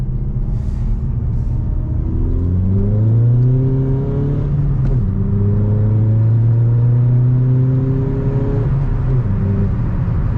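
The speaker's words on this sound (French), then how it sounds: "Je vais faire une petite accélération en deux." A Seat Ibiza Bocanegra accelerates hard in second gear, its engine note climbing steadily in pitch, dropping briefly at a shift, then rising again, loud and close inside the car.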